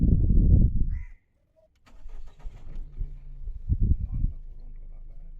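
A car engine cranks and catches, its low rumble rising in uneven bursts before settling into a steady idle; a short bird call sounds early on.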